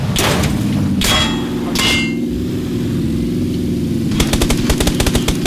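Gunfire in the PlayerUnknown's Battlegrounds battle royale game: a few sharp shots at the start, then a rapid burst of automatic fire near the end, over a steady low game hum.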